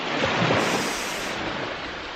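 Ocean surf on an Indonesian island beach at dusk, a soft continuous wash of waves with a slightly stronger surge near the start, broad and steady with wind-like hiss and no voices.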